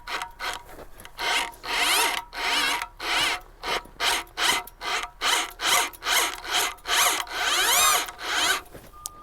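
A garden auger bores into soil where grass was growing, a rhythmic series of a dozen or so loud grinding, rasping strokes, each swelling and fading in a steady cycle, close and without talk.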